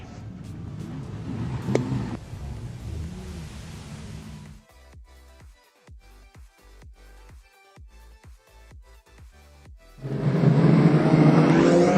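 Race cars at a Gympie Speedway season opener, a revving engine roar up close, then quieter stretches with sharp clicking ticks before a loud, sustained burst of engines kicks in again.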